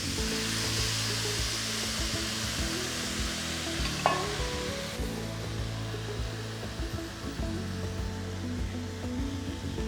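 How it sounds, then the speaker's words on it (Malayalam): Rice grains sizzle and crackle as they fry in a pot, a continuous dense hiss with faint pops under it and one brief sharp clink midway, heard up close with no one talking. "അരി പൊട്ടുന്നൊരു ശബ്ദം കേൾക്കാം"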